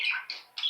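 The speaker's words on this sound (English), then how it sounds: "I'd like to introduce you our parrots." Pet parrots kept indoors give a few short, high chirps in quick succession, faint and close, with quiet gaps between the calls.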